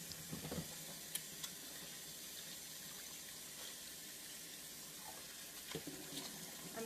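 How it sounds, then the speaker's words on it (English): Tap water runs steadily into a kitchen sink during handwashing while cooking coconut curry, a continuous hiss with a few faint clinks, fairly close and with no talking. "Just need to wash my hands."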